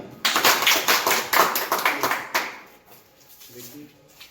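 A meeting audience in Jhajha, Bihar bursts into loud, close clapping for about two seconds before it thins out and fades, with a voice speaking faintly near the end.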